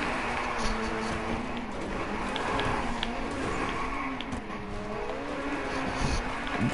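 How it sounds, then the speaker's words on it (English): A race car in a racing video game revs and shifts gears in quick succession, its engine pitch climbing and dropping in steps, with faint tire squeal, loud and continuous. "Why this car changed gear so quick?"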